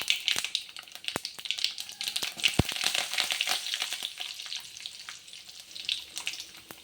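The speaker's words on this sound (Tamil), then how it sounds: "இப்போ கறிவேப்பிலை போட்டுக்கலாம்." Curry leaves dropped into hot oil for a Tamil kuzhambu, a steady crackling sizzle with scattered sharp pops, close and fairly loud, with no one speaking.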